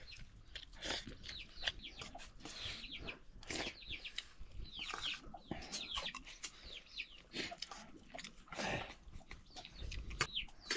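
Chicken near its coop making soft, scattered clucks and chirps, faint and close, over a quiet background with small rustles and pecking sounds.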